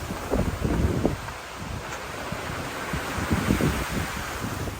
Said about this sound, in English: It is windy indeed through here.